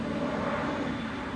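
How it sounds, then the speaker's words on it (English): A Gulfstream G450 business jet passes overhead on a sunny day, a steady, loud broadband engine roar filling the whole short moment with no talk. "Now we have coming up Gulfstream G450."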